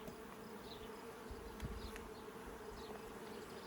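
Honeybees at an open beehive on a pollination farm make a dense, continuous buzzing hum close by, and faint individual bees fly past now and then.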